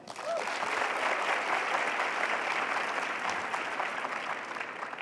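A large audience applauds at a talk on education, a dense, steady wash of clapping that holds at an even level for the full five seconds, with no voices over it.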